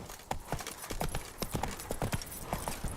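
A horse's hooves clip-clop in a quick, steady trot in The Witcher 3: Blood and Wine, the sharp, close hoofbeats falling in a regular rhythm.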